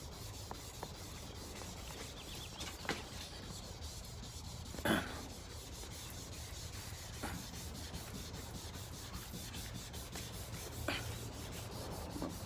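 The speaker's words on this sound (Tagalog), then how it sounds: "Liha tayo guys, magliha tayo." Steady rasping of sandpaper rubbed back and forth over a 2002 Toyota Corolla body panel, close and continuous, with a few brief knocks along the way.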